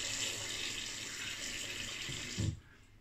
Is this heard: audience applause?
no